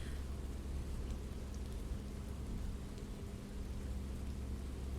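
Rain falls in a soft, even hiss, faint and distant, with a steady patter and no voices over it.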